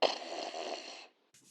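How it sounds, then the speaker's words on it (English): A man snores in a single long, raspy breath near and fairly quiet, followed by a brief softer snort. "Carter hears snoring."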